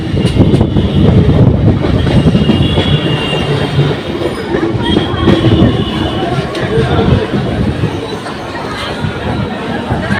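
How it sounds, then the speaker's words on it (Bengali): A Howrah–Katwa local train rolls loudly into a station, with a steady rumble of wheels and carriages, brief squeals from the wheels and a faint clatter on the rails, while passengers' voices murmur underneath. "আমাদের ট্রেন ঢুকছে এখন পালি স্টেশন"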